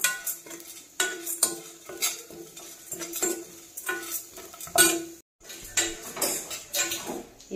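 Grated coconut roasting in a pan for a stuffed bhindi recipe, heard as rhythmic scraping and clinking of a metal spoon stirring against the pan every second or so, with a faint sizzle between strokes.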